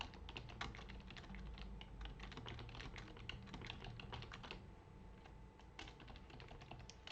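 Rapid clattering keystrokes on a computer keyboard as C++ code is typed, a dense close run of clicks with a brief pause before the typing resumes.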